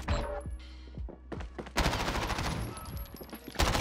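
MP5 submachine gun fire in Modern Warfare, a run of close, loud automatic bursts with short pauses between them, followed by a denser, sustained stretch of rapid shots.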